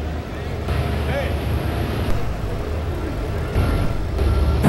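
A two-wheel-drive pulling truck at a 1999 truck pull in Louisville, Kentucky, roars with a steady, loud, low engine drone that swells slightly near the end, with crowd and announcer voices mixed beneath.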